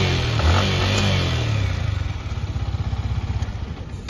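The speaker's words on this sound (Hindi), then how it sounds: "तो ये देखो भाई आवाज सुनना बाइक की आप।" A Yamaha MT-15 motorcycle engine starts with a loud rising rev, then settles into a rapid, pulsing idle putter close by, with no one speaking.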